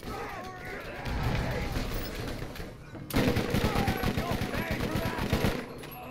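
Rapid gunfire from the video game Borderlands, dense bursts of shots and impacts crackling loudly throughout, growing heavier and more rhythmic in the second half, with someone talking over the combat.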